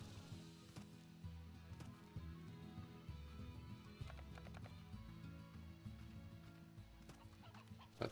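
Chickens clucking in the video game Slime Rancher, short faint clucks and a rhythmic clip-clop scattered over quiet, tuneful game music.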